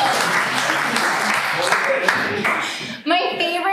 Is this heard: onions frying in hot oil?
no